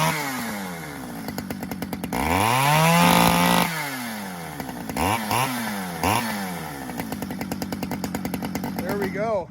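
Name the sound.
chainsaw engine started after choking and pulling the cord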